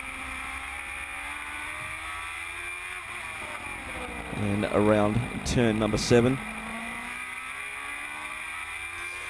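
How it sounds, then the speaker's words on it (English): A Suzuki GSX-R1000 engine in an FG1000 single-seater race car is heard through a race circuit's braking zones. It roars and downshifts in sharp rising and falling bursts over a steady background drone, with a commentator talking. "Beautiful sounding GSXR 1000 Suzuki engine in the FG 1000 into the braking zones of turn 5"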